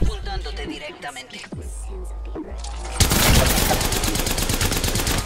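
Rapid bursts of Havoc energy rifle fire in Apex Legends erupt loud and dense after a few seconds of spoken chatter, a continuous fast stream of shots close up.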